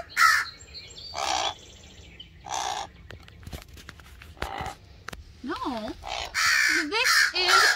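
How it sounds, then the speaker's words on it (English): An American crow at a wildlife rescue center gives a series of loud, harsh caws, close by, spaced out at first and then coming faster, with tapping noises and some human talk around the calls. "He is our American crow, or one of our American crows here at the Wildlife Center."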